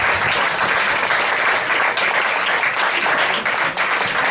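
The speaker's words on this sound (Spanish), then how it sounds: "un forte aplauso." A seated audience at a sceptics' talk breaks into strong, sustained applause, the dense clapping loud and even from start to finish.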